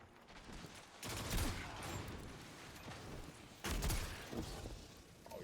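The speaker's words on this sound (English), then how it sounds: "Let's get our free conditional shot there." Solar conditional shot firing in Destiny 2, two heavy gunfire bursts about two and a half seconds apart, each with a sharp crack and rumbling tail over constant game background noise.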